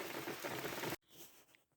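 Steady rain pattering on a vegetable garden with zucchini plants, a dense continuous hiss that stops abruptly partway through, leaving a quieter background.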